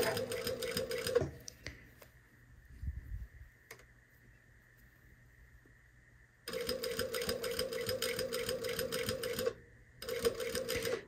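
A sewing machine stitches a collar corner in bursts of fast, even mechanical whirring, stopping for several seconds in the middle before running again, close and clear with no talk.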